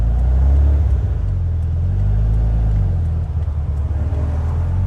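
A 1978 VW Super Beetle convertible with a 1776cc air-cooled engine drives along, its loud, steady low rumble swelling and easing as it accelerates, with no talk over it.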